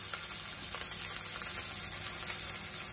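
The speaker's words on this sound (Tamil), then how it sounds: "வெங்காயம் நல்லா வதங்கணும்." Ten small onions and curry leaves fry in a pan for a village-style ground-masala kuzhambu, giving a steady, close, even sizzle with no talking.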